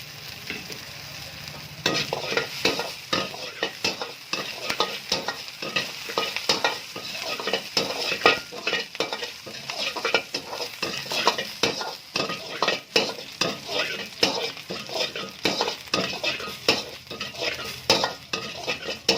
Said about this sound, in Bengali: হালকা একটু ফ্রাই হয়ে গেলে এর মধ্যে লঙ্কা কুচিটা অ্যাড করলাম।